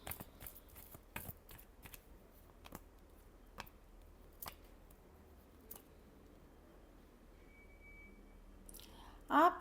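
Tarot cards are shuffled in scattered, crisp snaps and flicks over a quiet background, with a denser, louder flurry of shuffling at the very end.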